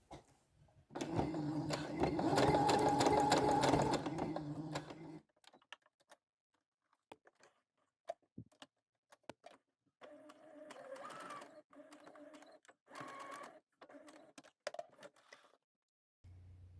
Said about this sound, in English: you're going to sew right along the edge of that triangle. It's tricky to get in there with a machine